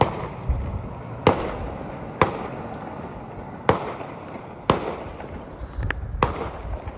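Fireworks burst nearby at night in the UK, sharp loud cracks about every second or so with crackling between, seven or so distinct bangs over a steady rumble.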